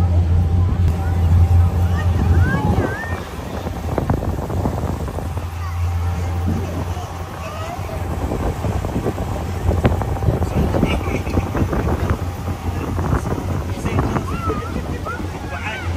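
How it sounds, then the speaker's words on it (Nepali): A small boat rides over the sea off Bahrain Bay near Manama, with steady wind buffeting the microphone, a low engine drone and water wash throughout, someone talking over it. "समुद्रको माथि पानीमा अलिकति डुङ्गामा यसो यात्रा गर्दाखेरि पनि चिसो हावा आउँछ समुद्रको"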